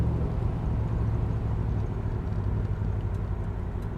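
A car with original factory side exhaust idles steadily, giving a low, even rumble that holds constant throughout at moderate loudness with no other sounds over it.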